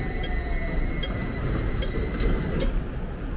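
A tram runs along North Point Road in Hong Kong with a steady loud rumble of wheels on rails, thin high squeals and a couple of sharp metallic clanks, close by and with no talking.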